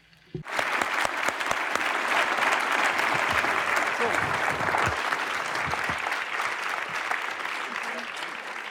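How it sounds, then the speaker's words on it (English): After a brief quiet moment, a conference audience breaks into a sustained round of applause that stays dense and even for several seconds, with a faint voice underneath. "Could we have a round of applause, maybe?"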